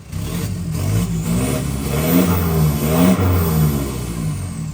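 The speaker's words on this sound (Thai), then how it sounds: "ก่อนจะฟังราคาฟังเสียงรถก่อนนะครับ" A used four-door Toyota Vigo 2.5 pickup engine revs several times, each rise in pitch followed by a fall back toward idle, loud and close with a clattery diesel edge.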